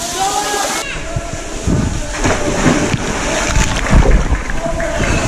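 Water splashes and churns at a small waterfall in a canyon during a canyoning descent, a close, continuous rushing and sloshing with scattered bursts of splashing.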